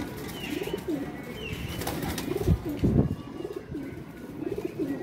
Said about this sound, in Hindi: ये जी फीमेल है बैटरी वाले कबूतर की